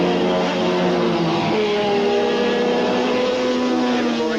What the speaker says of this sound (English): using their unique Wankel engine, a 2-rotary engine